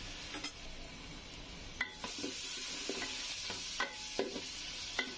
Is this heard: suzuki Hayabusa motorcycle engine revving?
no